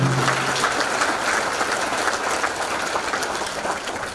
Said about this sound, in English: I'd like to ask you to give them an applause,